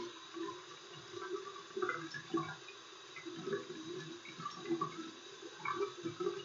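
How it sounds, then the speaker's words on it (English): Hands washed with antibacterial soap under a running tap, a steady close stream of splashing water with soft shifting splatters as the hands move beneath it, alone without talk. "and wash my hands for 30 seconds. And I'm going to wash my wrists"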